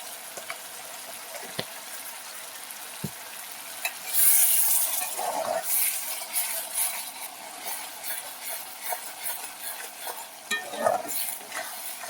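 Masala for chicken kosha frying in ghee in a pan, a quiet steady sizzle that turns louder and hissier as stirring starts, with intermittent scrapes and spatter, no voices.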